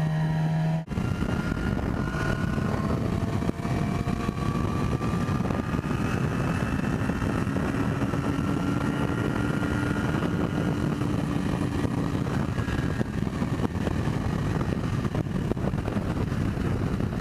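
Yamaha R6 sport motorcycle at speed, with a loud continuous engine drone and heavy wind roar throughout and the engine pitch rising and falling gently.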